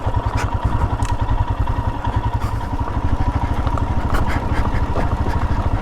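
A Royal Enfield Himalayan motorcycle engine while riding, a steady, loud, close single-cylinder thump with a rapid even pulse and some mechanical clatter throughout.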